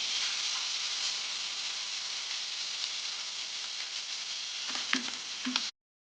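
Green chillies frying in hot oil with garlic and cumin: a steady, loud, bright sizzle that continues throughout, with a few stirring clinks near the end before it cuts off abruptly.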